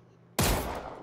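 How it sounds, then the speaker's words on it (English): A single sharp, loud gunshot in PUBG, a sudden close crack after near silence with a long echoing tail fading out. "he's shooting at me now"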